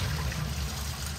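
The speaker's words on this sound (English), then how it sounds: "as I lift this, flushes the water out" Water runs out of a toilet cistern during a flush on a newly installed toilet frame, a soft, steady rushing trickle that stays faint and continuous over a low rumble.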